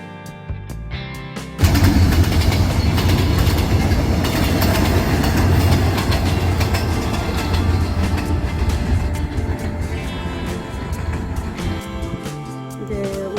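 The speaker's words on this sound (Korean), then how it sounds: "매일 저녁 이 시간에 기차가 지나가" A train roars past close by on a rural line, loud rumbling and rhythmic clickety-clack of wheels on rails, slowly fading as it moves away.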